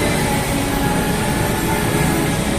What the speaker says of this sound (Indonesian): Tadi baru saja MRT lewat ke arah bundaran Hotel Indonesia.